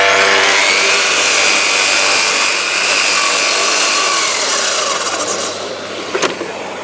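A Festool HK 85 carpentry saw cuts timber at an angle along a guide rail. Its loud, high motor whine stays steady while the blade works through the wood, then dies away.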